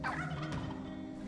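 Wild turkey hens call faintly from close by in open woods, giving a few short, abrupt putting notes over low rustling background. No one speaks.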